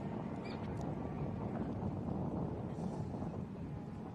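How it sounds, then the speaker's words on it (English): Wind gusting outdoors at the ARB Big Desert 480 off-road desert race, a steady loud rumbling roar that buffets the microphone throughout, with no other distinct sounds standing out. "Bit of breeze out there by the sound"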